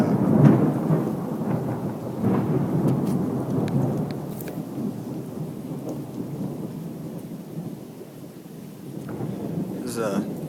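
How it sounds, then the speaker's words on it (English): A thunderstorm in Italy, heard outdoors: deep rolling thunder rumbles loudly over a steady hiss of falling rain, with scattered sharper cracks and drips. "This is a typical thunderstorm. Sounds like Godzilla's running around."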